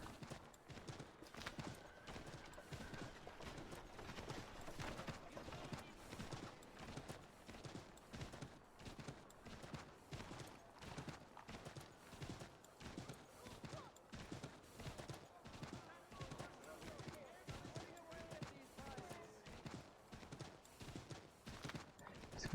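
Steady, rhythmic hoofbeats of a horse clip-clopping in the Assassin's Creed III video game, continuing throughout over a dense game soundscape with occasional bursts resembling distant gunfire.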